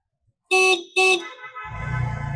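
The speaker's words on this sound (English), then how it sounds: "And just see the horn. You can hear the horn." Two loud honks from a Bajaj auto rickshaw horn, each about half a second with a short gap, followed by the rickshaw's engine rumbling underneath in traffic.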